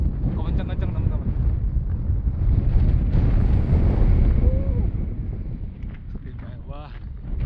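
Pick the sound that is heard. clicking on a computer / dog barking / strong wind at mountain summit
strong wind at mountain summit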